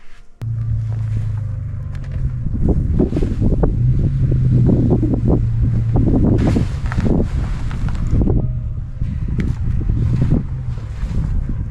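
Strong wind buffeting a tent at a sub-freezing winter campsite in Utah, a steady loud rumble with gusty bursts and flapping against the microphone throughout, with no talk.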